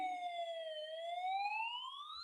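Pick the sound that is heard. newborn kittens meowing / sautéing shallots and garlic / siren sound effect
siren sound effect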